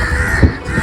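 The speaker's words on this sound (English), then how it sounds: "Crows are very intelligent creatures." Crow cawing once, a short loud harsh call close by over a steady background hum.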